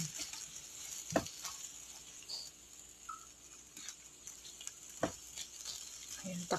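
Shrimp fry in a pan for breakfast, with a soft continuous sizzle and occasional sharp clacks and scrapes of a utensil stirring.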